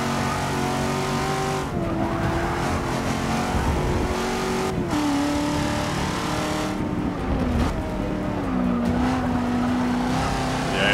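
A race car in Forza Motorsport 6 laps Road Atlanta, its engine droning loud and steady as the pitch sweeps up through the gears and dips at shifts, with brief tire skids and no speech.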